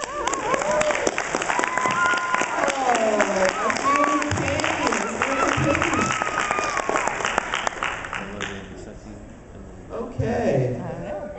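Audience applause and cheering at a Build Your Own Superhero improv event fill the room under overlapping voices and chatter, holding steady before thinning near the end.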